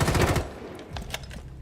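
A burst of rapid SMG fire in Rainbow Six Siege on the Oregon map, loud and close for under half a second, followed by a few sharper isolated shots and clatter in a quieter room.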